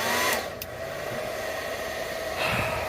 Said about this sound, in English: I'm gonna use my little hair dryer